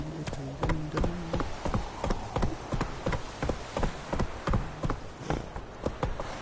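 A horse gallops in the game The Witcher 3: Wild Hunt, steady rhythmic hoofbeats clopping at a fast pace, close and clear, with faint game ambience behind and no talk.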